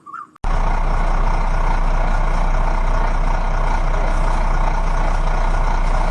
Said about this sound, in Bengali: ঋতু ভ্রমণ বাস চলে ঘর্র